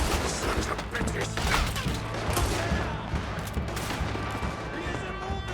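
Heavy gunfire during a shootout in Red Dead Redemption 2, a loud continuous barrage of overlapping shots and impacts that runs without pause, with voices shouting over it.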